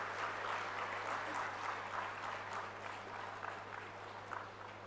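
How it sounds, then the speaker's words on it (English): A conference audience applauds the unveiling of a souvenir, a faint, steady wash of many hands clapping from across a large hall that holds evenly throughout, with no voices over it. "can we have a huge round of applause once again for this unveiling of souvenir"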